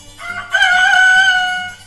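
A rooster lets out a single loud, drawn-out crow, close by and alone, rising then holding before fading.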